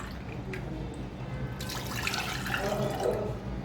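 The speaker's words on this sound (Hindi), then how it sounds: "2 गिलास पानी ऐड कर दूंगी।" Water being poured into glasses to dilute homemade mango squash, a steady close pour with a trickling splash that grows fuller toward the end, over low background noise.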